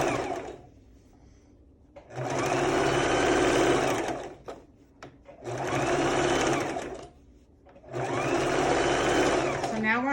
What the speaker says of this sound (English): We're going to back stitch that, give it a little support.